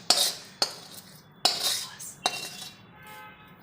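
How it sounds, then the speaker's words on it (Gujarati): Sticky puffed rice chikki mixture is scraped from a metal pan into a ghee-greased plate, producing four sharp, close metal clinks, each followed by a brief scrape, with no talk. "હવે મેં ઘી ચોપડેલી થાળીમાં એને આપણે ઠાલવી લઈશું."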